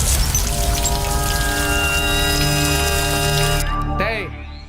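Tap water runs in a steady, full stream, pouring loudly and continuously before cutting off abruptly near the end.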